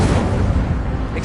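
Expelliarmus spell cast in the video game Hogwarts Legacy, a dense rumbling blast of magic that stays loud and steady for its short length, with no pause.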